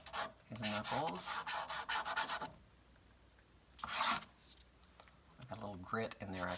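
Pastel stick scraping across black paper with a bit of grit caught in it, a dry rasping rub in short bursts between stretches of someone talking.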